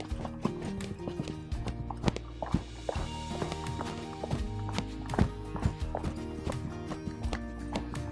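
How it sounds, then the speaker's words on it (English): A gaited horse breaks into a canter, its hoofbeats thudding in a quick, uneven rhythm at close range, joined by a brief neigh, with no speech over them. "Now we're gonna ask for the canter."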